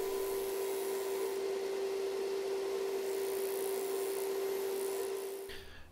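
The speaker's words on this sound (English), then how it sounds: "So I'm just going to get rid of the excess material with my disc sander." A disc sander grinds excess wood from a square bill crankbait lure blank, its motor holding a steady whining hum under a gritty abrasive rasp, loud and close before winding down at the end.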